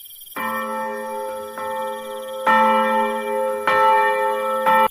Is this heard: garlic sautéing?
no